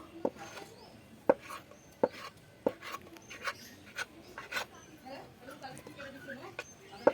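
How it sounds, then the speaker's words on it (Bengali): A knife cuts cherry pitha dough into barfi-shaped diamond pieces on a board, soft repeated taps and scraping strokes at an uneven pace, faint under a voice talking throughout. "আমি সবগুলি ভালোভাবে কেটে নিচ্ছি।"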